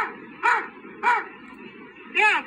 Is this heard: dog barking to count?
yes